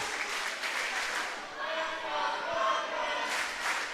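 A crowd at a college volleyball game cheers and claps steadily, with a swell of noise that dips briefly and rises again.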